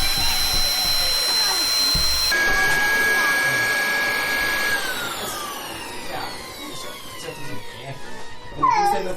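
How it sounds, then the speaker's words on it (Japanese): An electric air pump inflates a giant balloon, giving a continuous mechanical whine that shifts in pitch as it runs. Children's voices and movement are heard around it, ending in a louder burst of noise. "空気入れまーす"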